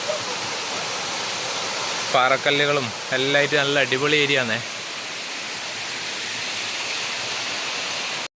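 A small waterfall in Kannur spills over rocks in a steady, close rushing hiss that runs throughout, with someone talking over it for a couple of seconds in the middle.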